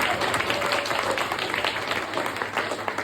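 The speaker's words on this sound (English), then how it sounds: "Round of applause for those guys." An audience at an anniversary prom awards event claps in a dense, sustained round of applause, loud and close, with no talking over it.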